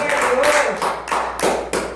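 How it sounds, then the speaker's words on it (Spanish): Worshippers in a Spanish-language church service clap in loose bursts of a few seconds each, with voices calling out over the rhythmic hand claps. "Den un aplauso"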